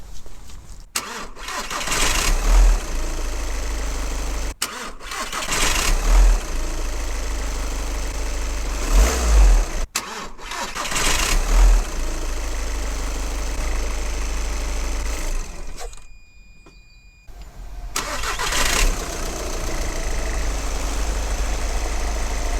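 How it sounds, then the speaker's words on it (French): A 2-litre diesel car's engine cranked with a SUAOKI U18 1200A jump starter booster, several loud cranking attempts broken by brief pauses, the engine catching and idling with a rough diesel rumble, close and without talk. "Je connecte maintenant le booster. On l'allume et on essaie de démarrer."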